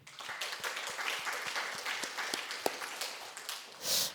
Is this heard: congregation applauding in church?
yes